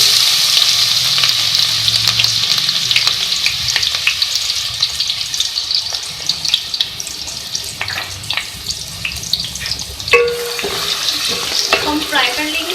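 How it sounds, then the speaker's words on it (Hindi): Onions fry in oil in a pan with a loud, steady sizzle and crackle, joined by occasional stirring clicks and scrapes toward the end, with no talking. "सबसे पहले हम ऑयल में प्याज ऐड करेंगे।"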